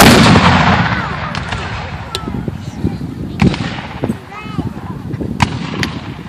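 A musket volley fired by file at a reenactment: sharp shots crack one after another in an uneven run down the line, loud and close, with voices and crowd murmur underneath.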